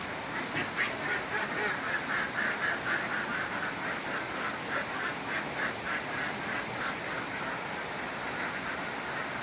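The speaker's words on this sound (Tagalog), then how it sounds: "So yan, ganun paglalagay ng itik." Ducks on a duck-layer farm being placed into a pen block, giving a steady chorus of quacking close by over continuous background noise, with no talk.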